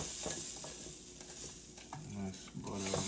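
Butter sizzling on a hot grill, a steady, dense crackle that holds throughout with faint stirring or scraping touches and no voices.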